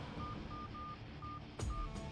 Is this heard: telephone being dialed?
yes